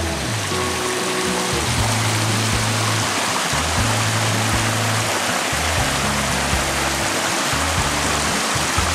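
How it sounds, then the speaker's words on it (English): A stream runs steadily beside a trail shelter on a New England hike, a broad continuous rush of flowing water swollen by recent rain, loud and close throughout with no talking. "Sounds like I can hear running water right over there."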